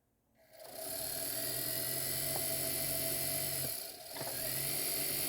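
A small drill bores through the shank of a ring while prong settings are added, starting after a quiet moment and rising into a steady, high whine that holds close and loud, dipping briefly near the end before resuming.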